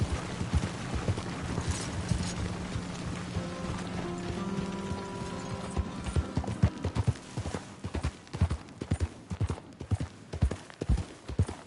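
Horse hooves clip-clopping steadily in Red Dead Redemption 2, a rhythmic run of close, distinct knocks that grows busier and louder toward the end over a low background hum.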